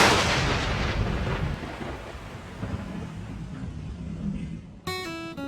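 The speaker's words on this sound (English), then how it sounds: "First, I needed to wait for a storm to pass." A thunderstorm passes over a lakeside waterway. Deep, rolling thunder starts loud and fades slowly, with rain hiss underneath, and a short tonal chime comes in at the very end.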